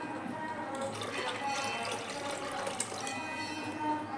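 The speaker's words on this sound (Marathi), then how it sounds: "आणि हे पाणी त्या ताकातच ओतायचं" Water used to rinse freshly churned butter is poured into buttermilk, making a soft, continuous trickling splash at close range. Faint voices are heard in the background.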